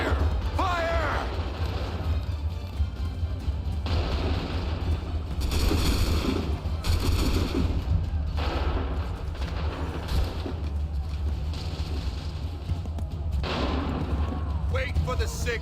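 Musket volley fire in Assassin's Creed 3, a dense crackling barrage of repeated shots over a steady low rumble, with voices shouting commands throughout.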